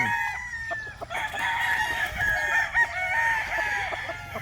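Broodcock roosters crowing and clucking among farm fowl, several overlapping crows ringing out nearby and continuing throughout, with background clucking.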